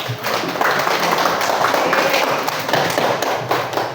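Classroom applause for a student group, a dense burst of many hands clapping loudly and steadily for about four seconds.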